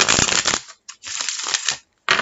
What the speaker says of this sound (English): Let me gather them up here and we'll shuffle one last time.